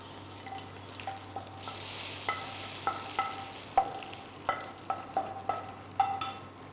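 A pot of brinjal kuzhambu on the stove gives a steady low hiss, broken by a series of sharp metallic clinks as a ladle knocks against the vessel, with no voices.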